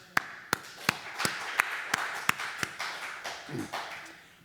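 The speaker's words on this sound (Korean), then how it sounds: "할렐루야 박수." Church congregation clapping: a run of sharp, evenly spaced claps, loud and fairly close, then a softer spread of hands and a brief voice near the end.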